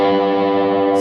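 An electric guitar through distortion and effects holds a single thick sustained note for about a second, loud and steady with no talking.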